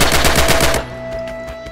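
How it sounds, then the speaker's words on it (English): Rapid automatic gunfire bursts loud and close in Red Orchestra 2, fired blindly from cover, a dense volley for under a second followed by a few fainter distant shots over a steady tone. "Use blind fire now and see what you can hit."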